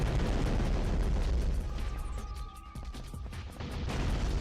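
Explosions and gunfire in the PS2 game Dr. Muto, a loud continuous rumble of repeated blasts and booms with a brief tonal whine in the middle, no voices.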